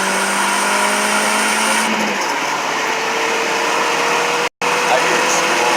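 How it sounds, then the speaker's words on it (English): A 2003 VW Passat 1.8T turbo engine runs with a steady, loud whine and hiss as the turbo spools, close and continuous under constant engine noise. "I was actually hearing your turbo spool."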